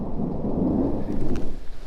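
Thunder rolls loudly and near during a storm in the New Mexico back country, a deep rumbling swell with rain hissing beneath it, fading into uneven gusty crackles.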